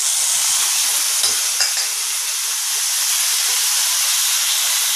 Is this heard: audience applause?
no